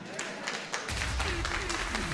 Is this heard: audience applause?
yes